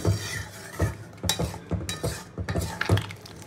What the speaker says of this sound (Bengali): ভালো করে নাড়াচাড়া দিয়ে আমি মাংসটাকে আবারও ঢাকা দিয়ে দেবো।